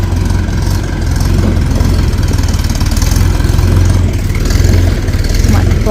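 A new tractor's engine runs close by on a village farm, a loud, steady low chugging idle with an even pulsing rhythm, with people talking over it.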